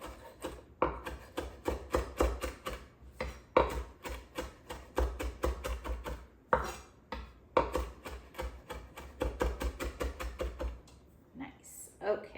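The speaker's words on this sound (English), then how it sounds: "So I'm going to make a nice tight pile here of this cilantro. And run my knife through it." A knife runs through a tight pile of cilantro on a cutting board, giving rapid, evenly spaced chopping taps in quick bursts with brief pauses between runs, close and crisp.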